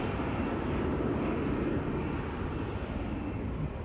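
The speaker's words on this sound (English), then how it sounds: "I'm hearing something spool up. Something heavy. That would be the KLM 777-300 to Johannesburg." A heavy KLM Boeing 777-300 bound for Johannesburg spools up for takeoff at Schiphol's Polderbaan, a deep, dense rumble that stays fairly steady and moderately loud, easing slightly near the end, with no talking.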